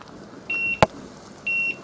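A kitchen timer on a gas stove beeps twice after one minute of cooking blueberry jam. The two thin, steady electronic tones are spaced about a second apart, with a single sharp click between them and a faint hiss behind.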